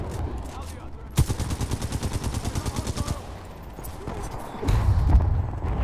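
Gunfire in the shooter video game Titanfall 2: a rapid, evenly spaced burst of loud shots lasting about two seconds, then quieter game noise and a low rumble, with a player's voice talking over it.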